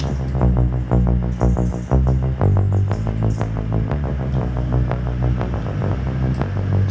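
A driving classic EBM synth and drum loop in Reason 13 runs through a fast-attack compressor, each hit starting with a small pop as the level clamps down immediately; steady, dense and loud throughout, with no voices.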